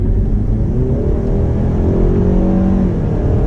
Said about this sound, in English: you can hear the engine now, it sounds good